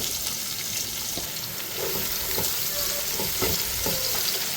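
Garlic and sliced onion frying in oil in a pan hiss with a constant close sizzle, broken by a few light scraping stirs.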